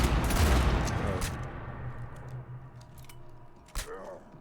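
Gunfire in the sci-fi shooter Mass Effect 3: a dense volley of shots at the start fades out, followed by a single sharp sniper crack near the end, with brief voice fragments in the mix.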